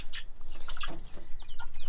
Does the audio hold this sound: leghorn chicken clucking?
yes